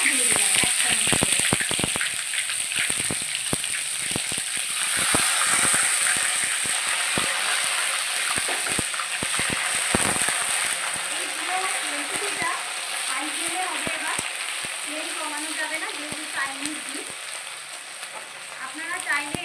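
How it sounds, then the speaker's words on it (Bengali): Garlic, green chili and ginger paste sizzling and frying in hot oil left from frying chicken, a continuous crackle with scraping stir clicks from a utensil, close up and steady throughout. "এবার আমি সেই তেলের মধ্যে রসুন আর কাঁচা লঙ্কা বাটা আর আদা বাটা দিয়ে দিলাম 1 চামচ করে।"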